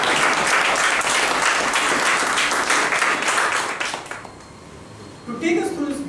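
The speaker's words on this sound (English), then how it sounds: "Let's give him a big round of applause." Audience at a meeting applauds with dense, sustained clapping that fills the room for about four seconds, then fades out, with a few scattered claps returning at the end.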